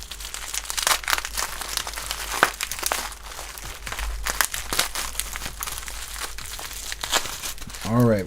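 Crinkly packaging around a bottle is torn and crumpled up close in rapid, irregular bursts of crackling, with a low hum underneath and a voice briefly heard at the end.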